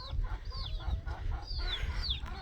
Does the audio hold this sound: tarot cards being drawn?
no